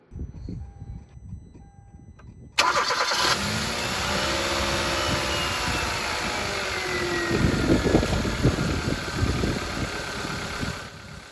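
A car engine cranks and catches at the start of a garage battery and alternator check, then settles into a steady idle with a high electrical whine, swelling briefly with a rev near the end.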